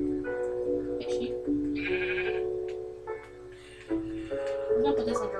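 Sheep bleating in a Minecraft-style video game, several wavering bleats in a row, loud and close, with tonal music underneath.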